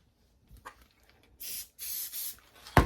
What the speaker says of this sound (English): I'm going to spray this edge right here that I finger folded.